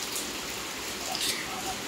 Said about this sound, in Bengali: মুষলধারে বৃষ্টি শুরু হয়ে গেছে